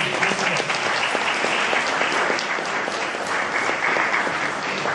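An audience at a gathering of writers gives steady, full applause, a dense even wash of clapping that holds at the same loudness throughout.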